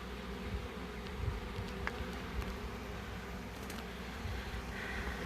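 A swarm of honeybees carrying pollen on their back legs buzzes in a steady, dense drone, close and continuous, with a few brighter individual wing whines standing out.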